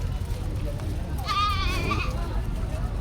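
A goat gives one wavering bleat at a busy cattle market, heard over a constant roar of crowd noise and low rumble.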